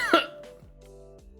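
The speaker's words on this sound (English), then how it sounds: "sorry, I had to cough." A single short, sharp cough near the mic, followed by quiet low hum and faint rustling.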